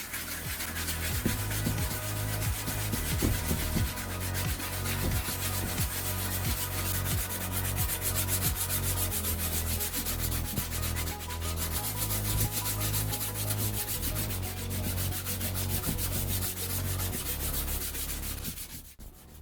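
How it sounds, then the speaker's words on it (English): 1000-grit sandpaper rubs steadily back and forth over a plastic car headlight in continuous, even strokes, loud and close, with no talking. "Take a sheet of 1000 grit sandpaper and begin sanding the surface."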